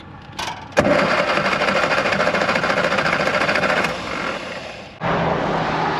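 A Morris Mini 850 cranked over and over while failing to catch, likely out of fuel: a loud, steady mechanical churning of the starter that runs several seconds, stops briefly, then resumes, close to the microphone.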